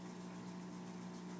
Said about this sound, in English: Got plenty of water movers in the tank right now.